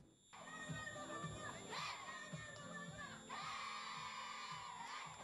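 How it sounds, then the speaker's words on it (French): Schoolchildren at the final of a national reading contest shout and cheer with joy, a dense, continuous crowd of high excited voices with whoops and yells rising and falling, mid-distance and lively. "Des cris de joie, des danses, des chants, mais aussi des pleurs à l'occasion de la finale du concours national de lecture"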